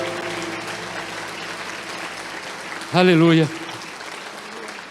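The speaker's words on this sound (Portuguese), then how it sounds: "dê uma salva de palmas para o Senhor" Congregation applause for the Lord during a church service, a broad even wash of clapping that runs steadily, broken briefly by a loud sung or shouted voice.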